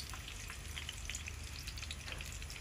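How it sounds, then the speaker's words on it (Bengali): River fish fries in hot oil, producing a dense, steady crackling sizzle that stays even and close from start to finish, with no one speaking. "এই পাশে তেল গরম হয়ে গেছে মাছও দিবে"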